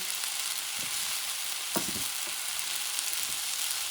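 Chuck steak fried rice sizzling in a pan, a continuous dense hiss with occasional soft scrapes and clinks as it is stirred up close.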